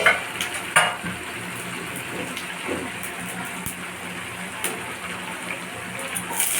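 Bay leaf, garam masala, cumin and pepper crackling in hot oil: a close, steady sizzle punctuated by sharp pops and light clatter from start to finish.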